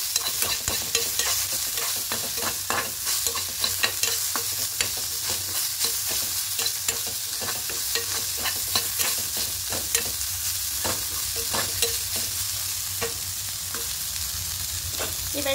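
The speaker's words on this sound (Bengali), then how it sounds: "এবার নিম পাতা এর মধ্যে দিয়ে দেব। দিয়ে খুব ভালো করে মিশিয়ে নেব।" Neem leaves stirred into brinjal frying in a pan, with a continuous sizzle and repeated scraping and clatter of the spoon, close up and with no talking.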